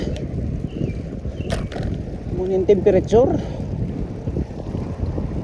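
Strong, cold summer wind gusts across the microphone in Stanley Park, a continuous low buffeting rumble with a voice talking over it.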